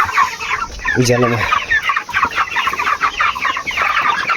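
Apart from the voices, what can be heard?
chickens clucking on a poultry farm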